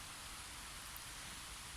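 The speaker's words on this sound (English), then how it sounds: "It's a rainy Sunday and I'm outside in the forest" Steady rain falls in a forest on a rainy day as an even, hissing wash of drops that stays constant and soft throughout, with no voices.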